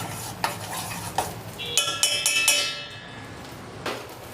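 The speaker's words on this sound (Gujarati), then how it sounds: "વચ્ચે વચ્ચે આમ હલાવતું રહેવાનું" Motichur ladoo mixture being stirred in a pan, giving a few scraping, clinking stirs with a brief sizzling burst in the middle, close and fairly quiet, with no talking.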